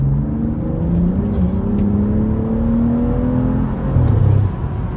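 A tuned Stage 2+ BMW F30 335i accelerates hard, its engine droning and rising in pitch as it pulls through the revs from inside the car, with a burst of exhaust crackle near the end.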